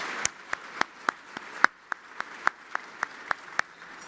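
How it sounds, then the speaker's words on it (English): Clapping at an awards gala comes as a thin, evenly spaced series of sharp single claps, moderately close and fairly quiet, with no talking over it. "let's give them a round of applause"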